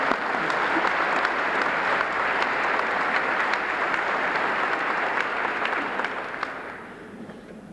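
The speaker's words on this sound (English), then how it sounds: "let's give them one more round of applause" Sustained audience applause at a hall of champions induction ceremony, a dense, steady wash of many hands clapping from a large crowd, easing slightly toward the end.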